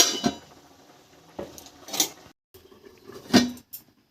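Metal pot and lid clatter and clink several times while potatoes are covered for boiling during Bengali-style chicken stew cooking, a few sharp, close knocks spaced apart.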